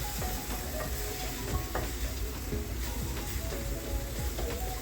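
Mutton liver fries in a pan as a wet fry, giving a steady close sizzle with occasional scraping stirs throughout, and no voices.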